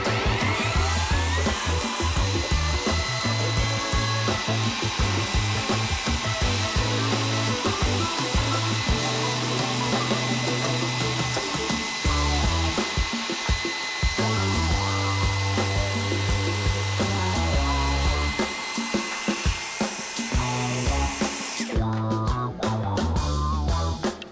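Lawn edger running steadily along a lawn edge during yard work, a loud continuous motor drone with shifting pitch and brief dips, no talk.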